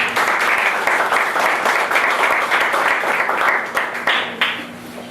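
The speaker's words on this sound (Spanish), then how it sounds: "Recibamos un fuerte aplauso a la economista." A seated audience at an evening cocktail forum on environmental policy claps warmly for an economist, a dense, loud burst of applause that tapers off toward the end.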